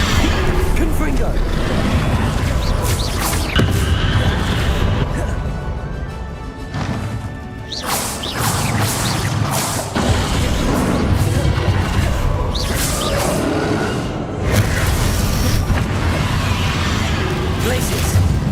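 Fire spell explosions blast repeatedly in Hogwarts Legacy combat, loud crashing bursts and whooshes layered over continuous battle noise, with a voice shouting spell names throughout.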